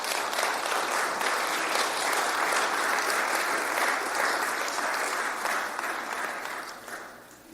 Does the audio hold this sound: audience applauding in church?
yes